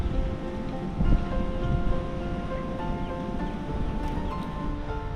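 Steady wind rushes and buffets outdoors near Discovery Bay, Hong Kong, a continuous low roar with occasional stronger gusts, no voices.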